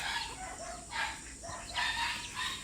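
Native chickens crossed with Chinese chicken cluck and call in short, faint bursts close by on a farm, with no voices.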